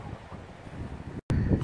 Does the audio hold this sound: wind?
yes